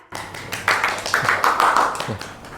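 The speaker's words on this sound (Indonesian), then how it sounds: "Kita tepuk tangan semuanya." Audience applause greets a guest from a Bandung legal aid institute at an Indonesian talk show, a brief burst of dense clapping that swells and holds for a couple of seconds.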